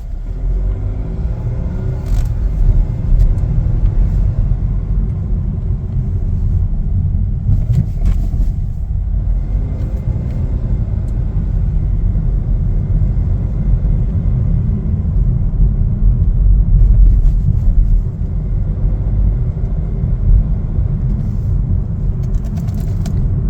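A 2025 Chevrolet Trax Activ driving along, heard from inside as a loud, steady low road rumble and engine drone with little variation throughout.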